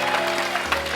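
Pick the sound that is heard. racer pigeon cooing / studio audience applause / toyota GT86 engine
studio audience applause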